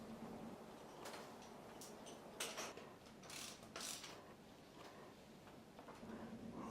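A tool tightens the rear wheel nut on a trials bike with disc brakes, giving quiet, close ratcheting clicks in several short bursts over a faint workshop background.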